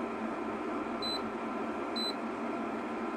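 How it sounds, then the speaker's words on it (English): Buzzer on an induction stove under repair: two short electronic beeps about a second apart, clear over a steady hum of appliance or room noise. "the buzzer goes off"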